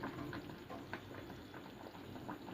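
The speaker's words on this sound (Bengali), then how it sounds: "আলুটা এদিকে সিদ্ধ হচ্ছে" Potatoes boiling in a pot, a soft continuous bubbling with small irregular pops, faint and close, no voices.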